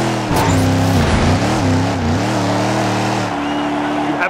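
Race cars driving in the Cars 3 video game, loud engine drones rising and falling in pitch as they rev close by, steady and without pause.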